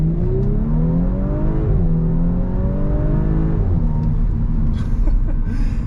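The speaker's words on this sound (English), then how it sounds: "I want to try to do another little acceleration here. So let's say you're just at a light and you just want to take off." A 2018 Audi S5 Sportback pulls away hard from a stop, its engine note rising loudly and steadily inside the cabin, with rpm dropping briefly at each upshift before climbing again.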